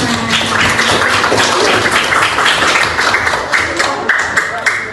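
A vocational high school class in Yogyakarta claps together, a loud, dense burst of many hands filling the room, with a voice or two faintly mixed in beneath the clapping.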